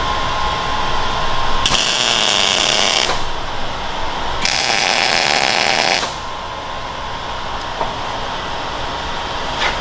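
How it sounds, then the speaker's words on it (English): Tack welding on custom steel hangers for a bagged Suburban gives two loud, harsh crackling bursts of a few seconds each over a steady background hum, with no speech. "enjoy some welding."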